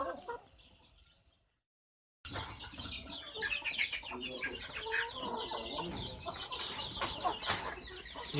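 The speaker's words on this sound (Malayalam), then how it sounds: "ഇതെൻ്റെ ബേബി ത്രേറ്റി കോഴികളാണ് അതുപോലെ ഇത് കൈരളി" Hens clucking in a backyard coop holding Kairali, Baby Thirty and large country chicken breeds, a busy close chorus of clucks with some wing flapping, after a brief silent gap.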